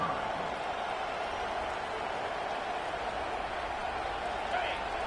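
A college football stadium crowd roars in a constant, dense wash of noise as the home fans try to rattle the opposing offense, with a commentator's voice faintly underneath.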